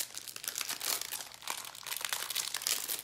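Crinkly plastic packaging around a keto chocolate chip cookie being torn open and handled, with a steady run of close crackles and crunches and no talking.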